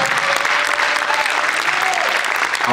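Loud, sustained applause from a large audience at an evening stage performance, dense clapping filling the whole stretch with a few faint voices and cheers mixed in.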